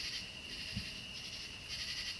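Tree frogs chirp at night in Peachtree City, Georgia, near a small backyard pond, a faint, steady high-pitched chorus that swells and fades slightly, heard from a distance with no voices.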